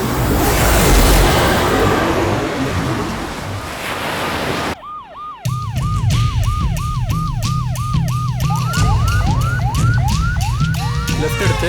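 An ambulance siren wails close and loud on a road, its rising and falling tones repeating rapidly and then slowing into longer sweeps, after a few seconds of broad rushing noise.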